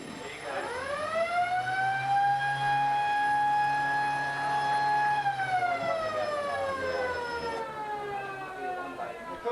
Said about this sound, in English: Quarter time siren goes to end the first quarter